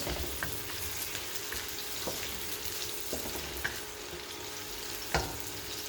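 Sliced oyster mushrooms sizzle steadily in a hot pan for vegetable lo mein, a continuous crackling fry with occasional soft clicks of stirring, moderately close and alone.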